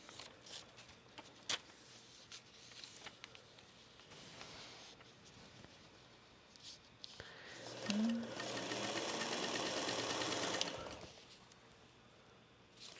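A Pro Stitcher quilting machine stitches a Summer Getaway quilt made from Fat Quarter Shop fabric, with a steady whirring run that rises loud for a few seconds and then stops, amid quiet room noise.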